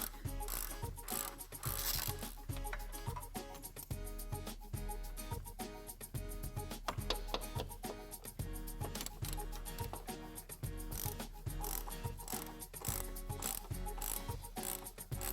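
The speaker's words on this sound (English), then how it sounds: "Remove the 3 mounting bolts that secure the air strut's upper mount." Hand ratchet clicking steadily while backing out the three bolts on the upper mount of an Audi Q7 front air strut, a dense, continuous run of close mechanical ticks with no talk.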